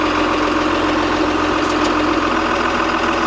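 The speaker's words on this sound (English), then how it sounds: "So we'll leave the engine running and we'll do some cycles." A JCB Fastrac tractor engine idles with its floor panels removed, a loud, steady diesel rumble that holds constant throughout.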